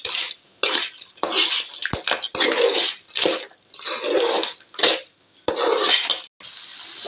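Coconut being stirred into a crab fry (nandu varuval) in a pan, with repeated close, loud bursts of scraping and sizzling that come in uneven strokes and short pauses, no voices.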